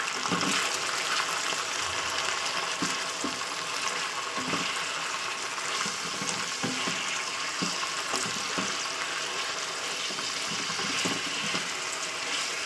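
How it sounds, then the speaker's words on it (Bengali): Chicken pieces frying in hot oil in a pan for an onion kalia curry: a steady, dense hiss with scattered soft pops and crackles throughout, fairly loud and close, with no talking. "তো দেখতেই পাচ্ছেন চিকেনটাকে দিয়ে দিলাম, দিয়ে আমি ভালো করে একটু তেলে খুব ভাজা ভাজা করে দেবো"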